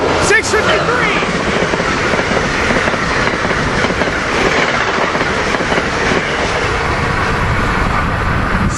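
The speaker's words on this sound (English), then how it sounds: "Here we got Northeast Regional 195 coming by, ACS-64, 653." Amtrak ACS-64 electric locomotive leading a Northeast Regional train past at close range, a steady loud roar of rolling cars with rhythmic clickety-clack of wheels over rail joints throughout.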